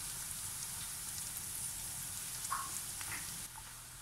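Chopped onion and garlic sauté in a pan with a steady, close hiss of sizzling oil throughout, a couple of faint clinks near the end.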